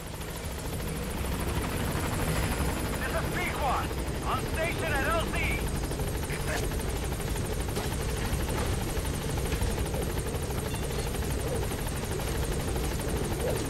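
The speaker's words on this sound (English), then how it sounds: "We're just waiting for our chopper buddy to get over here." A helicopter in the Metal Gear Solid V video game arrives with a steady, loud rotor thrum that persists throughout, with someone speaking briefly over it.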